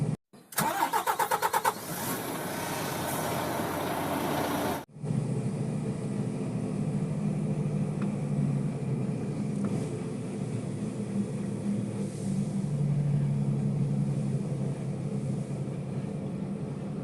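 A truck engine cranks and catches, then settles into a steady low rumble that carries on as the vehicle pulls away, loud and continuous with no talk.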